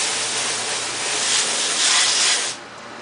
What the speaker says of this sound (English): Spray the tires again.